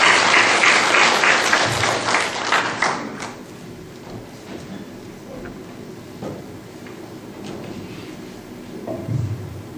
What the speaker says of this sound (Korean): 우리를 통해 역사하신 하나님 앞에 영광 박수 올려드리겠습니다